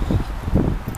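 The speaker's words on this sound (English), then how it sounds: "it is super windy here" Strong wind blowing on Holkham Beach in England, a steady low roaring buffet with gusty surges that fills the whole second, loud and close to the microphone.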